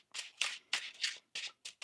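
Tarot cards riffled in quick bursts, about six crisp papery shuffles with brief gaps between, close and fairly loud with no talking.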